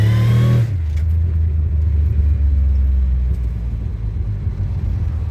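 A 2002 Pontiac Firebird with a 3.8L engine on a test drive. A steady, loud low engine rumble and road drone fill the cabin, with a brief higher whine that drops away at the start. No talk is heard.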